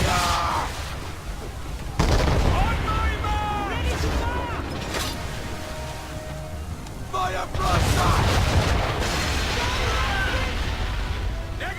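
Ship cannons boom in a naval battle in Assassin's Creed III, heavy blasts landing at intervals amid crashing waves, creaking timber and shouted crew voices throughout.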